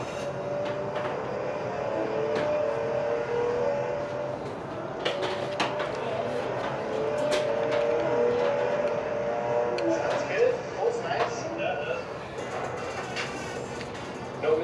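A Toyota 4AGE 20V engine drones steadily under load while driving, with rising and falling revs and a voice speaking over it.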